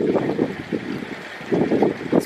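Gusty wind rushing around a newly built wind turbine being tested outdoors, a loud, close buffeting roar that swells in waves across the recording with no one speaking.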